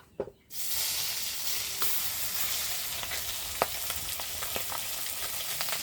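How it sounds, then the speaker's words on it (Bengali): Belly pieces of a large pangas fish frying in hot oil, a loud continuous close sizzle with scattered sharp pops and crackles, starting after a brief quiet moment and running on without talk. "মাছ ভাজতে ভাজতে তো সময় চলে গেল"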